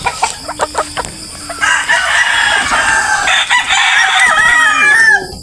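Farm chickens at feeding time crow loudly and cluck close by, with several sharp calls at first and then a sustained overlapping chorus of crowing and clucking until the end.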